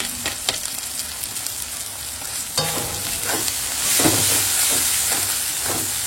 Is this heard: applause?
no